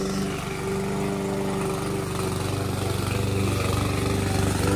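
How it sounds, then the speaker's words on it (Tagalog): A lawn mower runs steadily while cutting grass around a house, a continuous mid-level engine drone with a faint rising hum, alone with no voices over it. "You're cutting grass."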